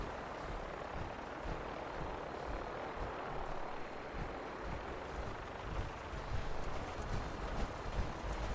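Vertibird aircraft engine in the video game Fallout 4, a steady rotor-like thrum and whine with rhythmic low beating that holds throughout and grows slightly louder near the end, with no speech.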